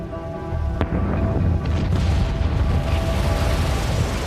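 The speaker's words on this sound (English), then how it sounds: "Throughout the night, the explosions increased." The Krakatoa volcano erupts as a dramatised scene: a sharp crack followed by deep, continuous rumbling booms that roll on loudly without pause.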